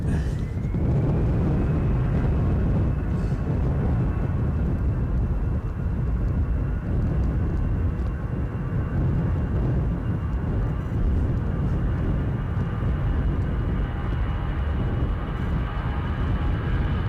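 Airliner landing in strong crosswind at Edinburgh airport as Storm Isha approaches, a loud sustained jet engine roar with a steady whine, heard alone from nearby with heavy wind rumble throughout.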